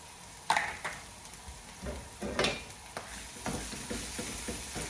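Chili paste and spices frying in a pan for chicken jalfrezi, a quiet sizzle broken by scraping stirs at irregular intervals, with no talk.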